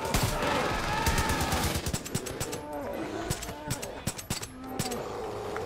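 Rapid gunfire in the shooter Far Cry 5, with dense bursts and separate sharp shots crackling over background game noise, with cattle lowing faintly in places.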